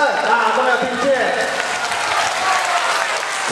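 A crowd at a ceremony applauds loudly and continuously, dense clapping close by, with a voice briefly heard over it at the start.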